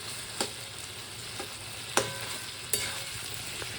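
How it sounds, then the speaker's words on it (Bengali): Chopped tomatoes being stirred in a frying pan, with a quiet steady sizzle underneath and a few soft, separate scrapes of the spoon against the pan, close by and with no voices. "এদিকে টমেটো দিয়ে একটু নাড়িয়ে নিলাম"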